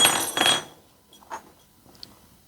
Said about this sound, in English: I'll then take my diagonal pliers, cutting off the excess piece.